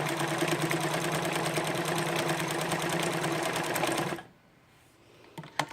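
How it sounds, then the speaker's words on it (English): A Dressmaker SL-2010 sewing machine runs a blind hem stitch, its needle clattering in a fast, steady mechanical rhythm, close and loud for about four seconds before stopping abruptly, followed by a few faint handling clicks. "I'm going to show the hem stitch, the blind hem stitch."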